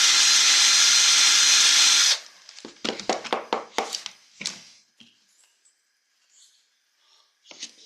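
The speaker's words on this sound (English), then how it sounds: "Where'd my drill? Here it is. We need to go in about 1/4 of an inch." A power drill whirs loudly for about two seconds, boring into a carved wooden bottle stopper, then stops, followed by a scatter of knocks and scraping handling sounds that fade to near silence.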